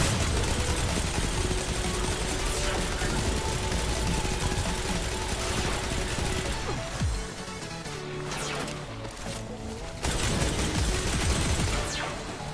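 Rapid gunfire from a weapon with heavy recoil in the video game Destiny 2, a dense stream of shots running through a strike mission amid game music and effects, thinning briefly before resuming.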